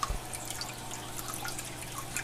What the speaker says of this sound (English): That is a homemade waterfall.